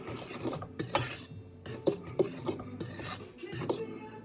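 Flour and salt being mixed together in a bowl for pizza dough, with repeated scraping and clinking strokes in an uneven rhythm, close by and no talking.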